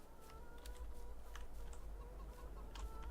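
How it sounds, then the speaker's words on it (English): Chickens cluck in a Farming Simulator 22 farmyard, a scattered run of short clucks over a steady low hum and faint ambient game sound. "We got tons of chickens"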